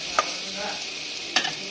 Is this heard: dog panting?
no